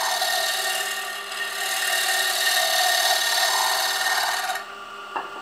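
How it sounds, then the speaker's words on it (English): A Hunter Viceroy carbide tool shear-scrapes spinning wood on a lathe, making a steady, close, bright rasping hiss that runs for about four and a half seconds and then stops abruptly, with no talking. "I'm going to pull the handle out a little bit, and I'm just going to shear scrape."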